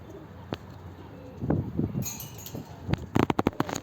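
A pigeon coos close by in short, low, throaty bursts, mixed with a few sharp clicks and rustles that end in a quick cluster of taps.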